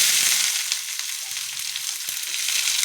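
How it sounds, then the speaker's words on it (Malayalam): Onions sautéing in a hot pan with cloves, mustard seeds and cinnamon, giving a dense, even frying hiss with a few faint pops and light stirring, close and unaccompanied by talk. "ഗ്രാമ്പു, കടുകിട്ടു, പട്ട, ഗ്രാമ്പു ഇത്രയിട്ട് നമുക്ക് ഉള്ളിയിട്ട് വഴറ്റാം."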